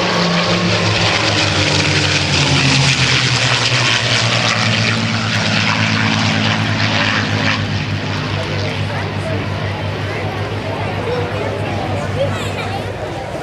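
A loud, droning propeller warplane engine, a North American Aviation aircraft in a USAF Heritage Flight at the NAS Oceana airshow, roars steadily overhead, slowly easing off as it passes.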